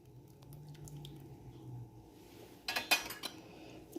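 Tamarind juice poured into Ugadi pachadi, a spoon then clinking and scraping against the dish in a brief cluster of close metallic knocks after a quiet, low-humming stretch.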